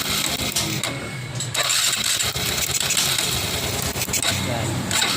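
A motorcycle engine with a faulty spark plug sputters and misfires at close range, its uneven running loud and rough, with a voice talking over it.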